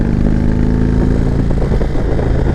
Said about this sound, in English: Starting off with our power plant, the Thunderstroke 111 engine.